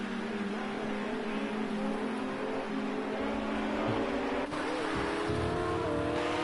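A Lamborghini race car howls steadily around the Nürburgring GP circuit, its engine note climbing and holding at high revs with a loud, continuous roar and a brief shift near the end.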